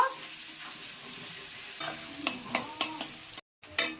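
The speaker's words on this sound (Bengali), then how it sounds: "পেঁয়াজটা এবার লাল লাল করে ভেজে নেব।" Chopped onions fry in hot oil with dried red chilli, bay leaf and whole cumin, a steady close sizzle broken by several sharp scraping stirs of a spatula near the end.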